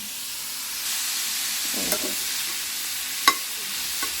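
Beetroot frying in a pan at home, with a soft, steady hiss of oil and a couple of faint clinks of a utensil, no voices.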